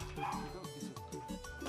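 Dog barking in a residential compound, a quick run of close, fairly faint yelping barks mixed with whimpers, with a voice partly over them.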